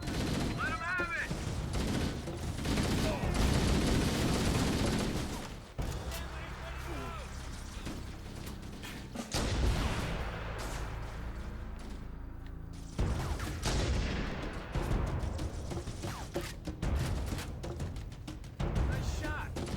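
Bursts of automatic weapon fire from a Halo MCC battle, loud and rattling in clusters with pauses, under and between voices talking.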